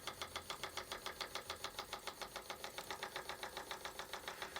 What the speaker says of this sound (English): It being just run on compressed air as you're watching it.